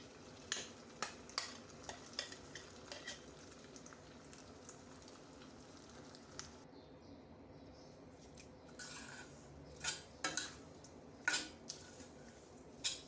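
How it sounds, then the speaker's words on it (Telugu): Ground moringa leaf chutney is tipped into a pan of tempering with fried onions and curry leaves, giving a quiet low sizzle under a series of sharp scraping and clinking strokes from stirring, close by and without speech. "ఇప్పుడు ఇందులో గ్రైండ్ చేసి పెట్టుకున్న పచ్చడి వేసుకుంటున్నాను"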